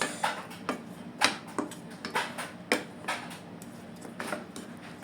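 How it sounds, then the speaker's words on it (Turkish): A wooden spoon stirs a lemon mixture in a bowl, giving a series of light, close knocks and scrapes at an uneven pace of about ten strokes, with no talking. "Ben tahta kaşığıyla karıştırıyorum."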